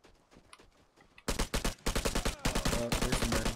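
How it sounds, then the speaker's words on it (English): Gunfire in the survival shooter game Vigor: quiet scattered pops at first, then loud rapid bursts of automatic fire that continue in dense, repeated volleys. "I hear gunshots that way"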